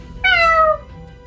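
A single clear, loud cat meow in a Fortnite short film, a short falling cry standing alone over quiet background.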